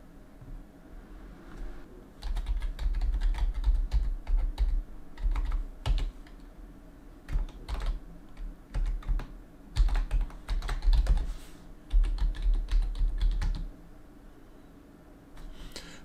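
Keys clatter on a computer keyboard while logging in to an Office 365 account, arriving in quick irregular bursts with short pauses between, moderately close and with no one speaking.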